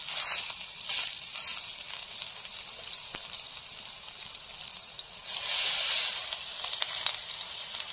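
Prawn fritters (chingri bora) sizzle steadily in hot oil in a wok, a constant dense crackle that swells louder partway through, with no talking.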